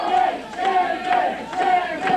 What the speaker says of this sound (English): They can cheer all they want.